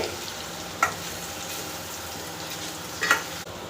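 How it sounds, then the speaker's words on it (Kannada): Marinated paneer fries gently over a low flame in a pan, giving a steady soft sizzle with a couple of brief clinks or stirring taps, heard close and without talk. "ಇದನ್ನು ಒಂದು 5 ನಿಮಿಷ ಲೋ ಫ್ಲೇಮಲ್ಲಿ ಸ್ವಲ್ಪ ಫ್ರೈ ಮಾಡ್ಕೊಳ್ಳೋಣ ಲೈಟಾಗೆ."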